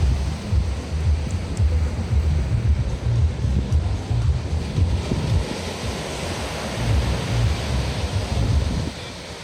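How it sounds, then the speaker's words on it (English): Surf rolls onto the beach at Canggu, Bali in a steady, rumbling wash of breaking waves, with wind buffeting the microphone throughout and no voices. "I am down at the beach."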